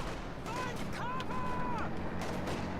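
An artillery barrage firing in the Company of Heroes 2 strategy game: faint, distant thuds and crumps under a steady battlefield hum, with thin whistling tones of incoming shells rising and falling.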